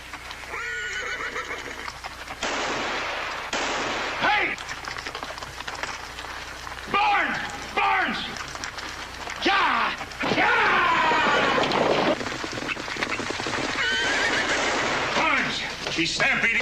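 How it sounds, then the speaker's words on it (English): Horses in a 1971 Western neigh and whinny repeatedly while hooves clatter in a stampede, loud and chaotic, with shouting voices mixed in. "He's stampeding our horses."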